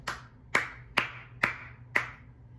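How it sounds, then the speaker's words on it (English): Five sharp, separate hand claps ring out at a steady, unhurried pace in a quiet room, each one crisp and close with a short decay. "Bro, you clapping?"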